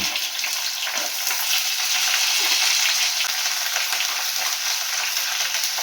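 Hilsa fish heads and pumpkin pieces fry in hot oil in a pan, a loud, continuous hissing sizzle with faint stirring scrapes and no speech.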